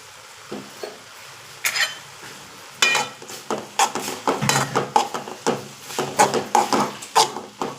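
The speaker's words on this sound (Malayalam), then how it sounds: "നമുക്കിനി നന്നായി ജസ്റ്റ് ഒന്ന് മിക്സ് ചെയ്ത് കൊടുക്കാം" Ground coconut paste is stirred into a mathura kizhangu leaf thoran, a stir-fry, with a spoon scraping the pan in quick, rhythmic strokes that grow steadier and louder after a few scattered early clinks.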